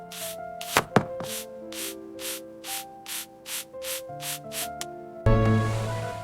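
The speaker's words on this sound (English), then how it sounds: "Cut into even sticks so they cook evenly and look like classic fries." A knife cuts peeled potatoes into sticks for fries, about ten even, rhythmic strokes up close, with faint background music underneath.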